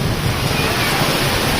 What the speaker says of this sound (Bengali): দেখেন পরিস্থিতি খুবই ভয়াবহ, অনেক প্রচুর পরিমাণ বৃষ্টি হচ্ছে।